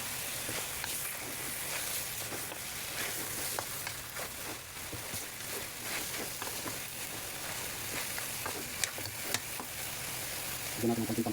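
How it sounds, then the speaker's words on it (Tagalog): Chicken feet and neck adobo, seasoned with pepper and baking soda, gets stirred in a sizzling pan: a steady, soft frying hiss with faint scraping throughout. "Haluin natin mga kapops."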